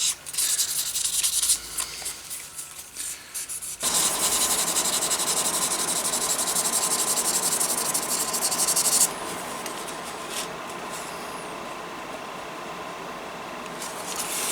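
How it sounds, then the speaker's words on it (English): A budget leathercraft hammer is hand-sanded with 600 grit sandpaper in short, uneven rasping strokes, then a long, steady stretch of scratchy rubbing that eases into a softer, quieter scrape, close and alone. "600 grit will do a better job getting out the 400 grit scratches."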